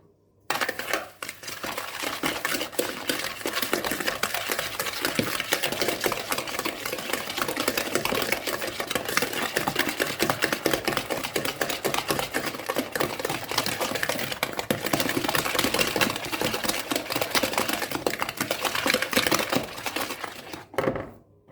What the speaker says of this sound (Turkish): Çırpma kabıma şöyle bir adet yumurtamı kırıyorum. Üzerine bir çay bardağı şeker ilave edip çırpıyorum.